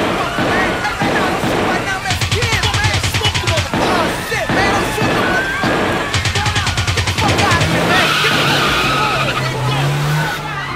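A drive-by shooting with rapid bursts of automatic gunfire fired in long rattling volleys over the loud roar of a car engine and screeching tires, ending in a rising engine whine as the vehicle speeds away.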